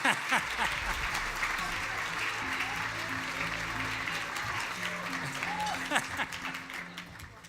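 An audience at the Lansing Regional Chamber's 107th annual dinner applauds warmly as Sherry Jones is welcomed, a sustained wash of clapping from a large crowd with voices talking faintly beneath it.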